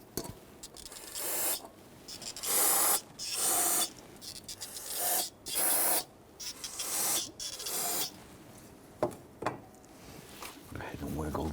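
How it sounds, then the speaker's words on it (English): Aerosol solvent sprayed at the base of the fuel injectors on a 1999-2004 Jeep Grand Cherokee 4.7L V8 during intake manifold replacement, heard as several loud, sustained hissing bursts of a few seconds each with short gaps. "I'm going to go ahead and spray some solvent down at the base here."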